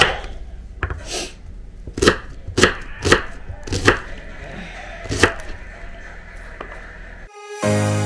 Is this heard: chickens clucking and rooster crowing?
no